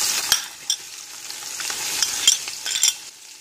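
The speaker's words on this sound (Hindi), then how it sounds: "थोड़ा उसे ब्राउन होने देंगे इस तरह" Ingredients browning in oil in a pan, a close, steady sizzle and fry with sharp clinks of a spoon stirring against the metal several times over the few seconds, no voices.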